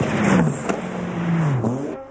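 A McLaren race car, the number 41 entry at the 1997 Le Mans 24 Hours, roars past with a loud engine note that drops in pitch as it goes by, and a second engine whines through after it.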